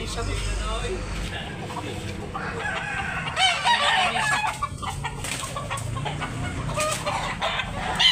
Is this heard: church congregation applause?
no